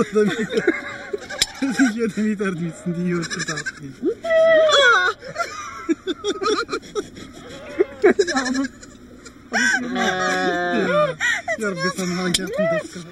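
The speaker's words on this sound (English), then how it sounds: "Poor goat." A goat bleats repeatedly at close range on a nomad camp in the Moroccan desert, its wavering cries coming in irregular bursts, with people talking between and over the calls.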